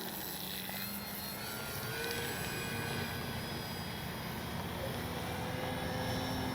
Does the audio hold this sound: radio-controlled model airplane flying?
yes